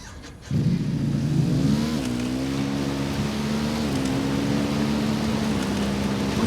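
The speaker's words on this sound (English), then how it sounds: "I'm hearing engine noise." Vehicle engine in a tunnel in Ghost Recon Wildlands, a loud motor that kicks in abruptly then revs up and holds a steady droning pitch, rising slightly midway.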